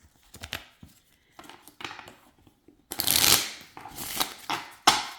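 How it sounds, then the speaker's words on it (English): A deck of Mamluk-style playing cards riffles and flicks in quick bursts, starting with light taps and building to louder shuffles near the end, close by. "This is a deck to be shuffled."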